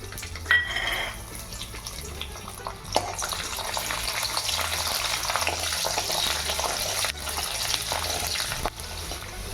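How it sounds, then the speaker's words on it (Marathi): Garlic crackles in hot oil in a kadai, a steady loud hissing sizzle that swells after a brief clatter and carries on evenly throughout. "कढईत मी तेल तापून घेतलेलं आहे आता मी त्याच्यात हा लसूण कडकडून घेणार आहे"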